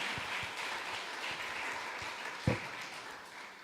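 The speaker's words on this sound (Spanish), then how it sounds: "Vamos a darle un aplauso al Rey de Reyes y Señores," Church congregation applauding during a Spanish-language service, heard as a soft, steady patter of clapping, fairly distant and low in level, with one sharper thump partway through.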